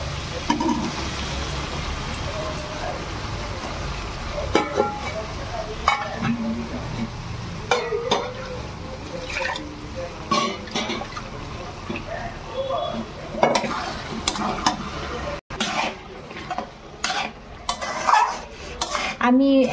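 Kabuli chickpeas tipped into sizzling spiced oil and stirred, a steady frying hiss under repeated clinks and scrapes of a utensil against the pan, close and fairly loud throughout.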